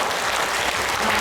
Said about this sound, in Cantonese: 俾掌聲大家先